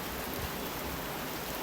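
Heavy rain pours steadily in Svay Rieng, a dense, even hiss of falling drops heard alone.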